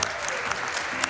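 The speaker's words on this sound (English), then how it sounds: "keep the round of applause going for what we just saw on the screen" A crowd at Awesome Games Done Quick breaks into a brief, dense round of applause during a Super Mario Bros. Wonder speedrun, loud sustained clapping with a few sharper claps.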